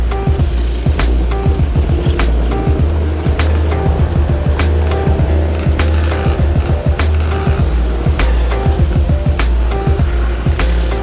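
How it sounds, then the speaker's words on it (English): A motorbike rides through a street in Vietnam, its steady low engine drone running throughout under a busy clatter of rattles and sharp clicks, with no voices. "that was my first time ever riding a motorbike in Vietnam"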